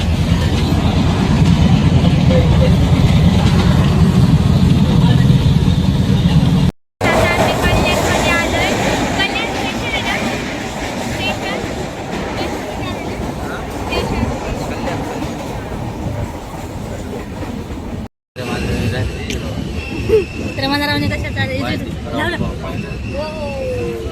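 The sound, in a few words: train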